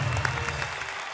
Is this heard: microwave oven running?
no